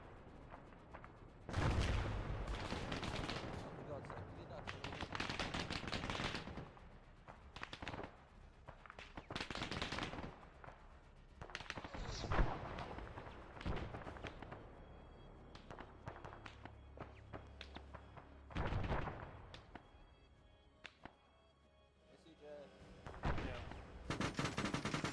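Gunfire in the Arma 3 military shooter game: repeated shots and short bursts go off at varying distances through a battle, some loud and close, others muffled, with faint voices now and then.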